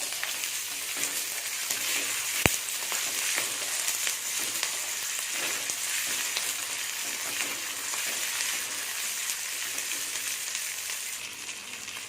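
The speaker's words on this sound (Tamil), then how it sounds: "இப்போ வெங்காயம் பூண்டு இஞ்சி எல்லாத்தையுமே அது கூடவே போட்டுக்கலாம் போட்டு அதையும் சேர்த்து ஃப்ரை பண்ணிவிடுங்க" Onion, garlic and ginger fry in a pan for a tuna fish curry, giving a steady, close, even sizzle throughout with one sharp metallic clink early on.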